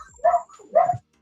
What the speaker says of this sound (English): Bacon just gave the Marner bark.